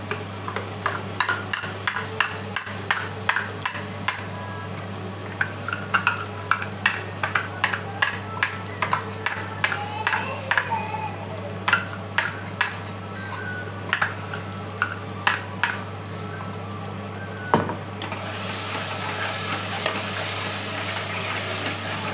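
Ground masala paste fries and sizzles in a pan for Chettinad-style mutton gravy, with a spoon repeatedly scraping and clicking against the vessel in an irregular rhythm over a steady sizzle that swells louder near the end.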